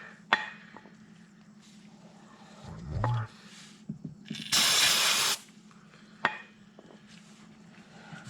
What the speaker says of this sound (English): So clean off our bolts too with a little bit of carb cleaner or brake clean.